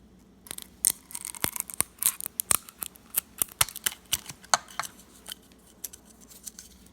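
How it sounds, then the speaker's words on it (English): A pair of scissors snips at a straw in a quick series of sharp, close clicks and cuts, irregular in rhythm and thinning out toward the end. "Let me get this pair of scissors and cut this off."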